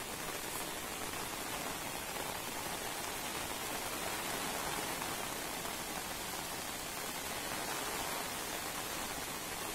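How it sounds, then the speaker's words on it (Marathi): Heavy, continuous monsoon rain driven by strong wind at Kharepatan in Sindhudurg, Maharashtra, a dense unbroken roar of falling water that stays loud and steady throughout. "वादळी वाऱ्यासह संततधार मुसळधार कोसळणाऱ्या पावसामुळे खारेपाटण शुक नदीनं उग्र रूप धारण केलं"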